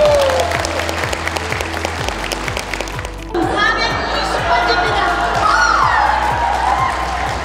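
Applause from an audience of volunteer firefighters at a national lecture contest, clapping in a steady rhythm, then shifting into a louder burst of clapping with cheers and chatter.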